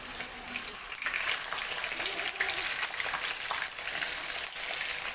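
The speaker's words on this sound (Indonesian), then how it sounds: "Panaskan minyak goreng secukupnya, lalu masukkan tahu yang udah dimarinasi tadi." Marinated tofu goes into hot cooking oil and fries with a steady, close hiss and crackle that stays fairly even throughout, with no voices.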